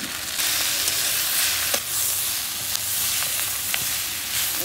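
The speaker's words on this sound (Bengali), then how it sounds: "এবার আমি আদা কুচিটা দিয়ে দিচ্ছি, তার সাথে কটা চেরা কাঁচা লঙ্কাও দিয়ে দিচ্ছি।" Chopped ginger and slit green chilies sizzle and fry in hot oil, a steady broadband hiss with a few sharp spits and pops, close and fairly loud, no voices.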